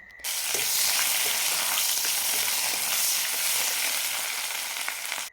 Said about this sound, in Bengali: তেল গরম হওয়া পর্যন্ত একটু অপেক্ষা করলাম। তারপর ওই তেলে দিয়ে দিলাম সামান্য চিনি আর দারচিনি, তেজপাতা। দেওয়ার পর একটু নাড়িয়ে চাড়িয়ে পেঁয়াজ দিয়ে দিলাম।